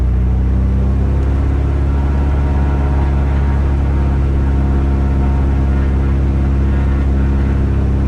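A Mooney M20J piston aircraft engine runs up to 2,000 RPM, a loud, steady, droning rumble heard from close by that holds constant throughout with no talk over it.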